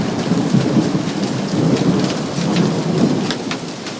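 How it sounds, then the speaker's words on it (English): Severe late-summer thunderstorm with heavy rain pouring steadily and deep rolling thunder rumbling underneath, loud and continuous with no voices. "Now give me some thunder, really loud."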